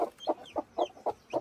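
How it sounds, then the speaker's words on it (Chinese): A newly hatched native chick gives a run of six evenly spaced, fairly loud peeping chirps, close and alone without talk. "这是前天晚上孵化出来的那只小鸡"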